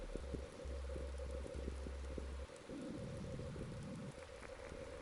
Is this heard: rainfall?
yes